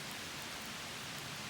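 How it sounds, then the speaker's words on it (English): Steady rain falls on a hiking trail in Pennsylvania, an even, close wash of dense pattering with no break over a short stretch. "Rain's starting to pick up."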